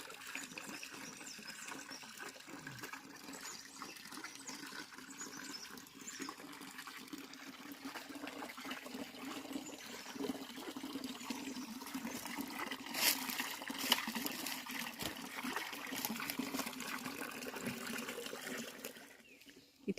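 Water trickles and laps faintly in a rock pool at a historic bathing site near Junnar, a soft continuous outdoor wash with slight variation and no clear voices.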